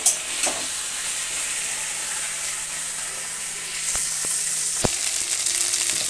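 A ground paste of green chili, ginger and cumin sizzles steadily as it is sautéed on a gas stove, with a continuous hiss and a few sharp scrape clicks of stirring near the end.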